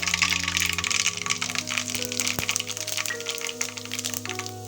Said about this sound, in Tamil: கடுகு பொறிஞ்சிருச்சு